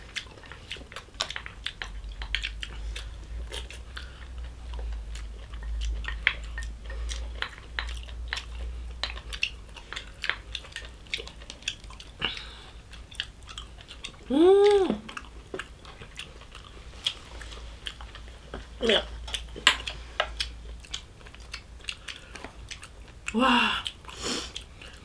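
Close, wet chewing and biting of gopchang and beef tripe stew over rice, with soft squishy mouth sounds repeating through the clip, a few brief clinks of dishes, and a low hum underneath.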